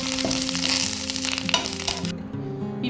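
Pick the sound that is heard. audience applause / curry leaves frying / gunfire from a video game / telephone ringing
curry leaves frying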